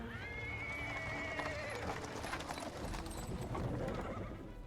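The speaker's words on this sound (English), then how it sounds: "He's interrupted by the sound of wheels rolling on the paving stones. Cart drawn by a sad little horse appears from around the corner." A horse-drawn cart in a fantasy role-playing game, Pathfinder: Wrath of the Righteous, with a horse whinnying and hooves clip-clopping on paving stones over a dense, steady street bustle.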